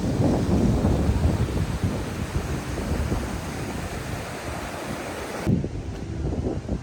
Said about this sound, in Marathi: हा सर्वात मोठा धबधबा आहे